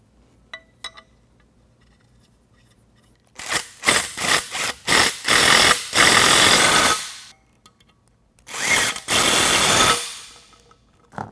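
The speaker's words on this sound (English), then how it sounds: "take our 7/32 Allen wrench bolts, start them into the bottom" Allen bolts being driven into a TracRac G2 truck rail on a 2012 Ford F-150, with loud bursts of power-tool whirring in short pulses and then longer runs, separated by quiet pauses and light clicks.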